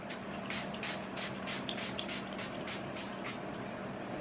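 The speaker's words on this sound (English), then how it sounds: "I'm just gonna take some Herbivore Rose Hibiscus Coconut Water Hydrating Face Mist, bring a little life back to the skin" Several quick spritzes of Herbivore Rose Hibiscus Coconut Water hydrating face mist, roughly a dozen soft, hissing pumps in a steady rhythm, close up over a low room hum.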